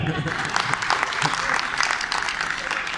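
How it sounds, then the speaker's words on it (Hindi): Audience clapping at an Urdu humorous poetry recital, a steady rippling patter of many hands with voices mixed in under the applause. "डॉक्टर साहब के लिए भरपूर क्लैपिंग।"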